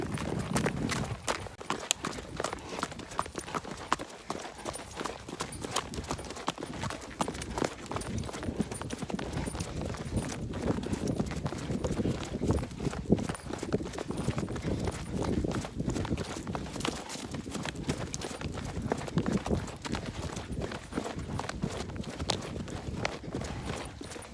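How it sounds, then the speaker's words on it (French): Hooves of a young horse clip-clop steadily in a fast trotting rhythm, close and continuous, with faint rustle and breathing under a humid tree canopy. "Allez, on trotte un peu?"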